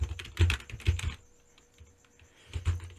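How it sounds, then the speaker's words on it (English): Fingers type code on a computer keyboard in quick clusters of close, crisp key clacks, with a short pause in the middle before another burst of keystrokes. "let's type that function now"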